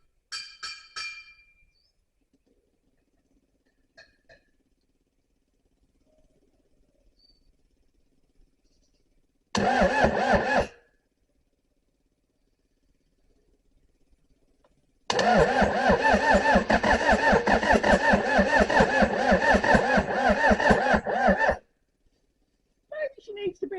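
An engine being revived for a destruction test is revved hard toward redline in two loud bursts, a short one and then a long sustained roar, with quiet gaps between them.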